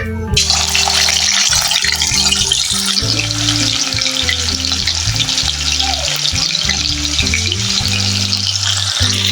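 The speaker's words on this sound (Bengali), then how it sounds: "আমি ওই তেলেতেই মাখানো চিকেনগুলোকেও ভেজে নেব।" Marinated chicken frying in hot oil left over from frying potatoes for chicken biryani, a steady loud sizzle and crackle throughout with low clunks of stirring.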